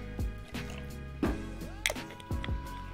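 Fresh lemon juice is poured into a cocktail in small splashes and drips, several short liquid bursts with gurgling pauses, close and fairly quiet.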